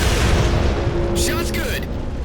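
A heavy weapon shot in Halo 4 booms loudly over a dense, rumbling battle din, followed by a brief whooshing sweep, with a voice talking partway through.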